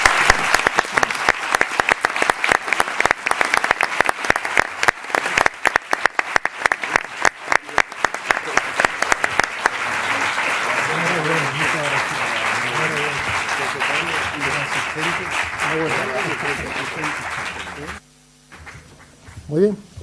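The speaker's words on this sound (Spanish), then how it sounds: "el mejor colofón para estas 2 jornadas es un fortísimo aplauso para los autores de todo esto que están aquí presentes." Strong audience applause for authors at a historical presentation in San Fernando, loud dense clapping for about ten seconds that then thins as chatter and voices take over before a brief pause.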